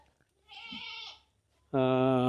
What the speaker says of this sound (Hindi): यहाँ पे अंदर में ही इन्होंने जो है बकरियां टिका रखी हैं।